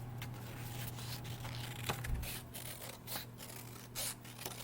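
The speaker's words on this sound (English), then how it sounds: "I'm going to take my scissors and cut it out again." Scissors cut through paper in a classroom art lesson, giving several soft, irregular snips and rustles at low volume.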